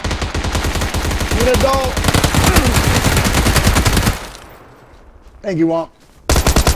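Video game gunfire as a dense, loud run of rapid automatic shots lasting several seconds. A short pause follows, then another burst starts. Players talk over it.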